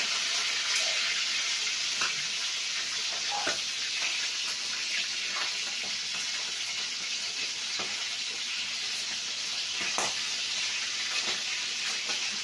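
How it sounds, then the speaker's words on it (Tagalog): Skipjack tuna (tulingan) frying in cooking oil gives a steady, dense sizzle with scattered crackles and pops throughout, close and continuous with no talking. "Ang ating pinipritong tulingan."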